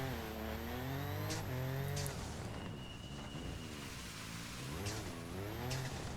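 A rally car in WRC drives on compacted snow, its engine droning steadily and rising and falling with gear changes and revs, loud and continuous with no voices.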